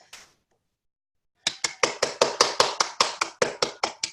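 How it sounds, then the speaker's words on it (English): A brief voice, then a pause, then about thirteen crisp, evenly spaced hand claps from one person or a small group during an online team meeting, close and fairly loud. "Do we want to give everyone a big round of applause?"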